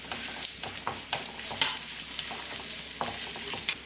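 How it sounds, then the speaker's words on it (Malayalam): Chopped small onions stir and fry in hot oil in a pan for a home-style Kerala lunch: a steady close sizzle with repeated scraping strokes of the spoon, no voices. "പിന്നെ ചെറിയ ഉള്ളി മുറിച്ചത് എല്ലാം കൂടി നന്നായിട്ട് മൂത്ത് വരട്ടെ."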